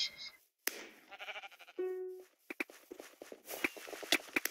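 A Minecraft sheep gives one clear, wavering bleat amid quick in-game footsteps and clicky block sounds, fairly faint and close, with no talking.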